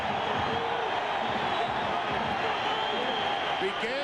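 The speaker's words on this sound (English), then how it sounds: "there is Ortiz Jenkins, the offensive MVP, and you hear the crowd reaction" Stadium crowd at the 1997 Insight.com Bowl college football game, New Mexico at Arizona, giving a steady roar of cheering that fills the background under a commentator's voice.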